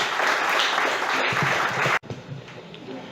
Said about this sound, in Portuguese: Você pode aplaudir ao Senhor por essa presença aqui nessa manhã?